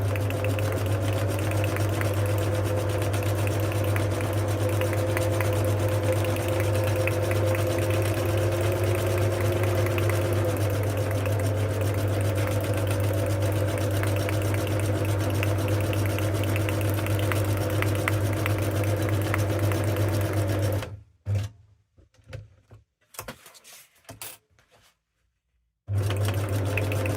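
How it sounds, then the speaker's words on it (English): Sewing machine running a zigzag stitch around fabric, a continuous loud whirring drone with a low hum for about twenty seconds, then stopping into scattered short bursts and handling noises. "First thing I'm going to do is a zigzag stitch all the way around"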